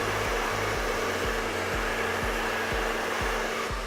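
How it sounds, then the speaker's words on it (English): A hair dryer fitted with a diffuser blows steadily and loudly on low heat while drying hair, its broadband whoosh punctuated by a regular low pulsing roughly twice a second, with no voices. "just by pulling it straight back and using my diffuser to lay"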